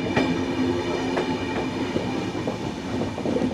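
Passenger train on the Sairang to Kolkata route rolling into New Mal Junction, heard from on board as a steady rumble with rhythmic wheel clicks and a faint sustained tone.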